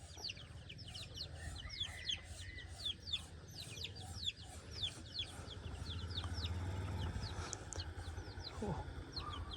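Farm chickens and ducks cluck and chirp in an outdoor yard, with bird calls scattered throughout over a low steady rumble, and faint talk in the background.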